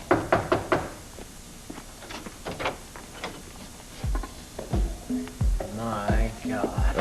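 Knocking on a door in a 1982 soap opera scene: several quick bursts of close, firm knocks, then scattered thumps and door handling with some voice-like sounds near the end.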